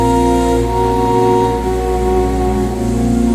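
Soundpaint Dunescape and Forbidden Planet virtual instruments layered together into a loud, sustained synth drone with stacked steady tones, dense and unbroken throughout with no speech.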